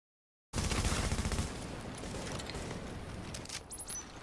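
An automated turret in a video game fires rapid bursts of gunfire, starting abruptly and loud, then continuing as a dense, sustained rattle that thins out toward the end.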